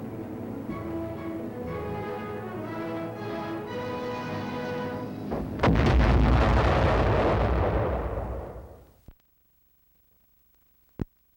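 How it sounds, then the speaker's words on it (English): An artillery shell fired with a proximity fuse bursts just before reaching its target. A loud explosion hits midway over a tonal musical background, then a rumbling roar decays into silence before a final sharp click. "it automatically explodes a projectile just before it reaches the target"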